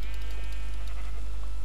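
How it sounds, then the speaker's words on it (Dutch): Two or three short bleats from a sheep in a blocky survival video game, loud and close against steady background noise, with no voices. "Ik maak dit schaap even af"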